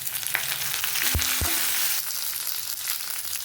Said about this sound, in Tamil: பூண்டு கொஞ்சம் பச்சை வாசனை போகிற வரைக்கும் வதக்கிக்கலாம்